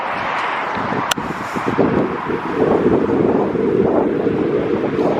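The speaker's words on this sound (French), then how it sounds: "Il y a du vent." Strong wind buffets the microphone in a continuous rough rumble, with gusts rising and falling and a faint roar of water or traffic beneath.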